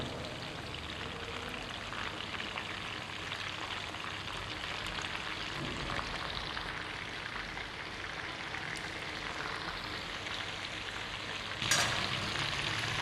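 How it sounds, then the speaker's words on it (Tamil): Masala-coated chicken shallow fries in oil in a pan, a soft, continuous crackling sizzle with a brief louder burst of spitting near the end, with no talking. "இப்போ சிக்கன் பார்த்திங்கன்னா உங்களுக்கு நல்லா கிரில் ஆகிட்டுருக்கு"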